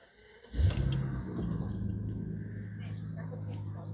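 A BMW engine cranks and fires after an engine overhaul, with a sharp burst of starting noise followed by a steady, low idling rumble that continues to the end.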